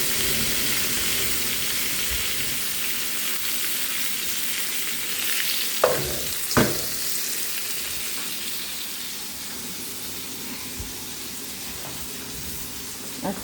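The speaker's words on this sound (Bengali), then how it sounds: "তরকারি বসাবো, পেঁয়াজ দিয়ে বসাইছি" Onions fry in oil for a curry, giving a steady, close sizzle with a couple of sharp clinks of a utensil partway through.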